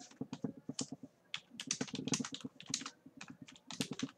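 Someone types Python code on a computer keyboard, producing rapid, close, crisp key clicks in uneven bursts with short pauses, fairly quiet and with no speech.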